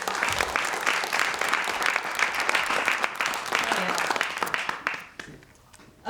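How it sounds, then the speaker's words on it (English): A storytelling-event audience applauds steadily for several seconds, a dense wash of clapping that fades out near the end. "Round of applause for Brooke Hoover."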